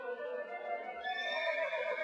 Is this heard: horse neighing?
yes